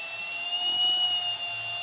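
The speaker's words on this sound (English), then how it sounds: "While I'm drilling, I'm making sure that I'm pointing at the screw, the set screw." A drill runs steadily while aimed at a set screw, giving a continuous high whine with a faint low rumble beneath, close and even for about two seconds with no talking.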